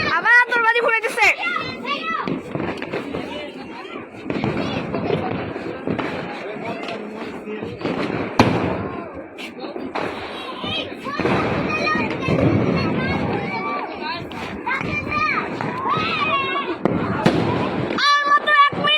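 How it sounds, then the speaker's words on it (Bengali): More New Year's Eve fireworks burst and crackle outdoors in scattered pops and bangs, heard under constant chatter and shouting from excited children and adults nearby. "আবার আতশবাজি ফুটাইতেছে"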